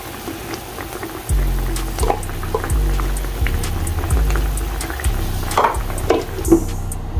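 A New York steak and onion rings cook in a pan of simmering liquid, making continuous close bubbling and boiling with a few soft clinks and pops, and no one talks.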